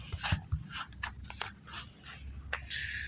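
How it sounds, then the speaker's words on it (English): An excited dog pants close by with quick, uneven breaths, greeting a visitor who has come to clean the pool at a home in Joshua Tree. "Oh, this is such a pretty dog."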